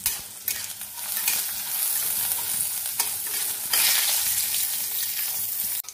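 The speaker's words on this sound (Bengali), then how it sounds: "এগুলোকে লাল হয়ে অবধি ভাজা হবে।" Urad dal bori, the lentil dumplings, sizzle steadily in hot oil, a continuous close frying hiss with stirring.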